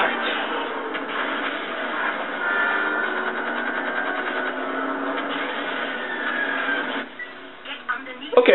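Train rumbling during a train chase in 007 Everything or Nothing video game, a steady loud clattering roar that drops off sharply near the end before a few louder bursts.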